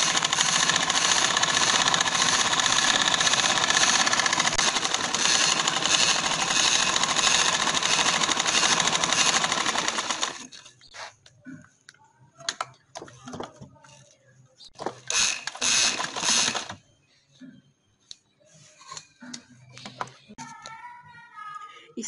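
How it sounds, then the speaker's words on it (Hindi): A sewing machine stitching maroon trouser fabric runs in a steady, close mechanical whir for about ten seconds, then stops; afterward someone talks with a few brief stitching bursts in between. "सिलाई लगाती हूँ।"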